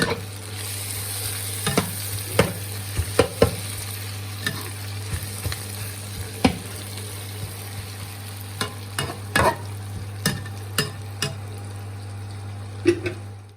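Khichuri cooks in a pan with a steady sizzle under a constant low hum, and a utensil scrapes and clacks irregularly as it is stirred.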